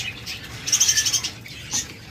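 Diamond doves kept in a breeder's aviary give a short run of soft, quick repeated calls, a few fairly close notes over a faint background, with a single further call shortly after and no voices.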